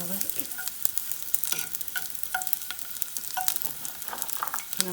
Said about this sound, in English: So I'm just roasting up some garlic